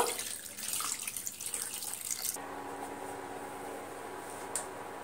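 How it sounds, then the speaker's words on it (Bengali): Water splashes into a bowl of cut potatoes, a loud close rush for about two seconds before it stops, leaving a faint steady hum. "দিয়ে আলুর মধ্যে পরিমাণ মতন পানি দেব।"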